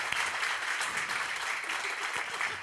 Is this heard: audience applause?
yes